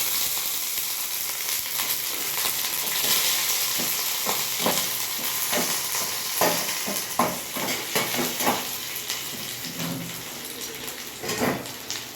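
Curry leaves dropped into hot oil in a pan, crackling and sizzling loudly up close while a spoon stirs and taps against the metal in uneven bursts.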